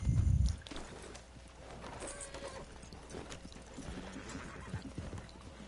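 Horse hooves clip-clop steadily in a Western-themed video game, a loud neigh opening the run before the even, moderately quiet hoofbeats continue alone.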